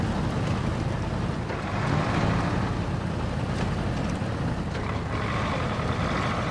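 A truck drives through water in a video game expedition, with steady splashing and engine rumble running continuously and loudly throughout, no voices.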